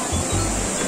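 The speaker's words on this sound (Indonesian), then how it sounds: "Jadi ini air terjunnya ya guys, kan udah mendekati air terjun." A waterfall at a tourist spot roars as a steady, loud wash of broadband water noise with a low rumble swelling underneath.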